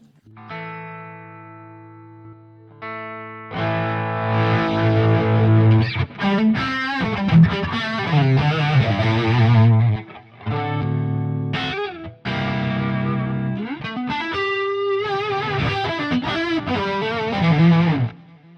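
A heavily distorted electric guitar through a Quad Cortex plays after a clean held note, its tone sweeping and warbling as an expression pedal shifts bass and gain, loud with a few brief drops.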